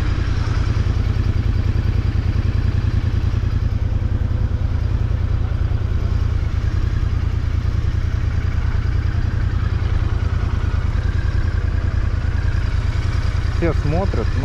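A Royal Enfield Interceptor 650 rides through heavy Moscow traffic near the Kremlin, its twin-cylinder engine giving a steady low rumble throughout with traffic noise around it and a brief high squeal near the end.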